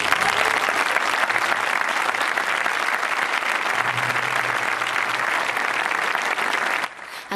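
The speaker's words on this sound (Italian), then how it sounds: "il pubblico interrompe la scena con un applauso che dura diversi minuti" A packed theatre audience breaks into sustained, dense applause during Va Pensiero at a sold-out summer performance of Nabucco in Tindari, loud and continuous before cutting off abruptly near the end.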